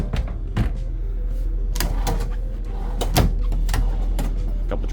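Several wooden drawers in a 2015 Itasca Solei diesel pusher motorhome slide and bump shut in quick succession, close by, with sharp knocks and scraping over a steady background hum.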